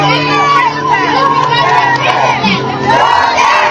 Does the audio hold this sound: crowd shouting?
yes